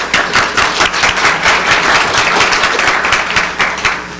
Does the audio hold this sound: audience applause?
yes